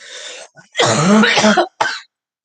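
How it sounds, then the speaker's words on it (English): A person coughs close up, a harsh rasping fit followed by a shorter cough, with no talking. "I'm so sorry about my gross coughing."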